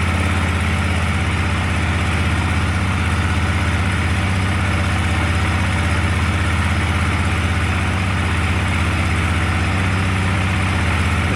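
An Arctic Cat 400 ATV engine idles after carburetor cleaning, a loud, steady low rumble that runs unbroken and close throughout, with no talking.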